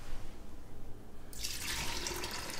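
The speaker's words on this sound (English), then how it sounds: "we're gonna pour all of this in here, and oh, there's a lot of splashing" Pumpkin mead mixture poured into a brewing vessel, a splashing, rushing liquid pour that starts about halfway through and continues steadily to the end, close and fairly loud.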